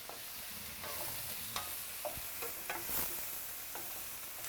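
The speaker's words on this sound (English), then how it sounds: "Let's put a little extra oil, because the mushroom absorb the oil so fast." Mushrooms fry in oil in a pan with a faint, steady sizzle, broken by occasional light scrapes of a utensil, heard close but quietly.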